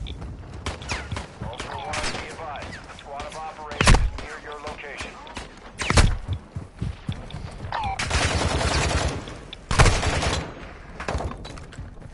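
Sniper fire in Call of Duty DMZ, several loud, isolated heavy cracks spaced seconds apart over ongoing gunfight noise, with a player's voice talking in between.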